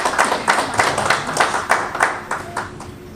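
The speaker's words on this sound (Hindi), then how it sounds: "जोरदार तालियां वीपी यादव सर के लिए" An event audience applauds to welcome a speaker on stage: a short burst of brisk clapping from a modest crowd, fairly near and loud, thinning toward the end.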